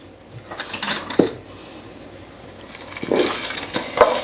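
Roasted nuts and pistachios tipped into a mixer jar for energy balls: two bursts of clattering, rattling pieces hitting the jar with small metallic clinks, separated by a quieter pause.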